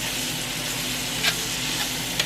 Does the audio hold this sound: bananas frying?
yes